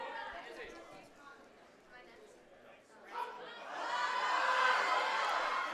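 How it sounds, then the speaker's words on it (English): A crowd at a high school powerlifting meet cheers for a lifter on the platform, murmuring chatter rising into a sustained distant roar of cheering and shouts, with an announcer talking over it. "Whole crowd's going to be cheering her on."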